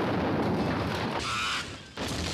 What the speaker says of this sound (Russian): Какой взрыв!